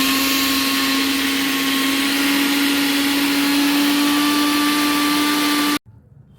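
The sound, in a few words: mixer grinder grinding coconut into a fine paste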